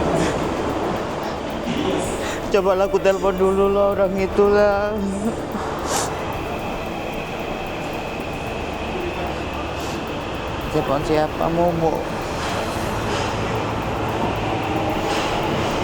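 Steady rumbling of a moving train carriage, with a continuous low hum under two people talking in short exchanges.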